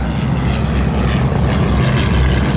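A Stampe SV4 French-built primary trainer biplane, originally fitted with a 140 horsepower Renault four-cylinder inline engine, drones loudly and steadily as its propeller engine runs close by at an airshow.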